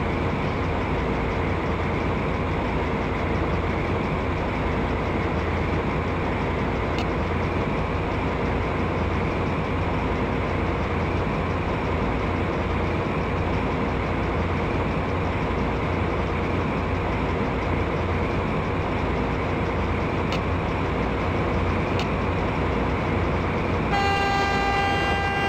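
Passenger train in the MSTS train simulator on Polish line 202, Białogard to Runowo Pomorskie, 1980s setting: a steady, dense rumble of the running train throughout, with a brief horn-like tone near the end and no voices.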